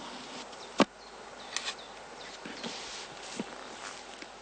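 Honeybees swarm out of heather straw skeps at an apiary, a faint, diffuse buzzing hum with scattered louder insect fly-bys and a few soft knocks and thumps nearby.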